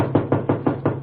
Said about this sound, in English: I wish somebody would knock on the door or something.